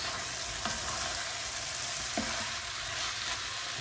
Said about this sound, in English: I add my peppers